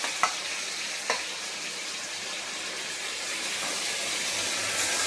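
Spice-coated chicken pieces go into a hot pan, giving a couple of sharp clicks early on, then a steady, close frying hiss that builds slightly as they sizzle; no one speaks.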